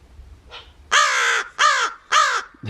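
A raven calls with three loud, drawn-out caws in steady rhythm, preceded by a fainter short croak, heard alone in a quiet winter outdoor setting near a bird bath.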